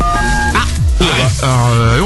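A radio morning show's jingle and ringtone for its president-of-the-week segment plays as a loud, continuous run of melodic sung or synthesized tones with sliding pitches.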